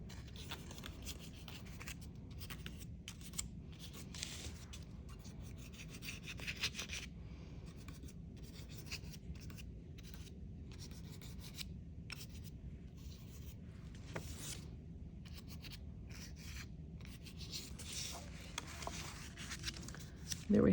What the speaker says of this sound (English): put a decent amount of pressure on here to scrape up some of the paint, but you don't wanna rip the paper